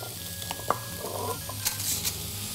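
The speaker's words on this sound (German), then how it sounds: "warte ich, bis die Pfanne heiß ist, lege es rein," A sirloin steak sears in a hot pan, giving a steady sizzle and crackle with a few light knocks and scrapes of handling, close and even, with no voices.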